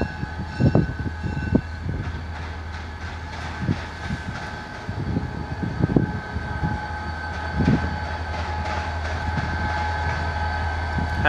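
A southbound FEC Port Job freight train rolls past with a steady low engine rumble and intermittent clanks and thumps from the cars, continuous and fairly loud with no speech.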